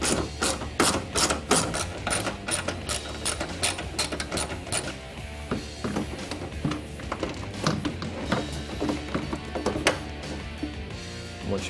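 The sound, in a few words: ratchet removing 10mm bolts from Ford Mustang headlight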